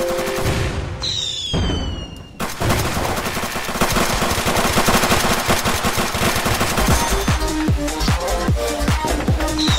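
Fireworks in the Roblox game ER:LC at a one-billion-visits event: a whistling launch, then a dense, loud barrage of crackling and popping bursts, with rapid repeated booms thumping through the later part.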